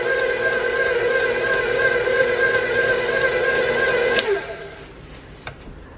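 A stand mixer kneads and blends bread dough with a steady, loud whirring motor hum that stops abruptly near the end, leaving a quieter tail.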